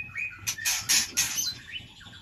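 Young bird chicks kept in a cage chirping loudly and close, a dense burst of high overlapping cheeps and calls with no talk.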